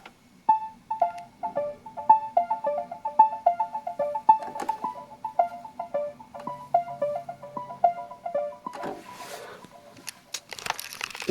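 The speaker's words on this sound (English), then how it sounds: "So I put on the arpeggiator that's already on here." A synthesizer keyboard with its built-in arpeggiator plays a repeating pattern of short plucky notes with gaps between phrases, clear and close with no talk, ending in a burst of noisy texture.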